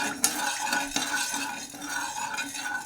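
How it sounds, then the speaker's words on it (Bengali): Hot oil is stirred in a pan before prawns go in for a coconut-poppy-seed steamed prawn dish, with a spoon scraping and clinking against the metal over a soft sizzle. "তেলটা একটু নেড়ে দিচ্ছি একটু"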